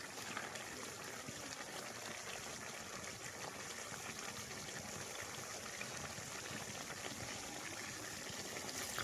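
Water pours steadily into a pot of beef for rezala, a continuous rushing splash that holds at an even level throughout.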